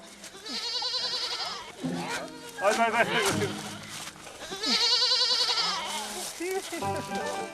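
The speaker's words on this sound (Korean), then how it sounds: "이번 목표물은 아기 염소인가 봅니다." A baby goat in a remote Nepali mountain village bleats loudly in repeated wavering cries near at hand, with other bleats overlapping and a voice speaking in between.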